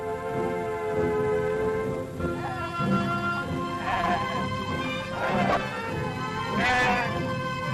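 Sheep flock bleating across a rocky desert high plateau in Algeria, several overlapping wavering calls, some near and loud, over a steady ambient bed of rustle and movement.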